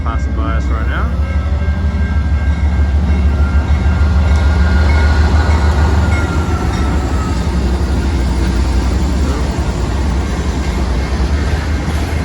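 A small train rumbles past nearby in Ambleside, Vancouver, a loud steady low roar with rail clatter lasting throughout, with some talking mixed in.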